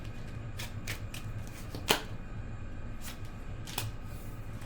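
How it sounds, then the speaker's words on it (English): Tarot cards being shuffled in a few soft riffling bursts, with one sharper snap near the middle and another later, close and quiet over a low steady room hum. "One more shuffle."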